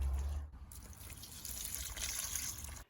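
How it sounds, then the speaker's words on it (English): Water poured over a newly planted plant, a soft continuous trickling and splashing heard close up with no voices, fading out at the end. "The next stage is to water your plant"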